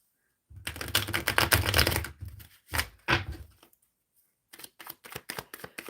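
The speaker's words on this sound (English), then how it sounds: "shuffling for Helga." Tarot cards being shuffled by hand, with a long dense riffling burst followed by a few shorter bursts and a run of quick separate clicks and taps, close and fairly loud with no talking.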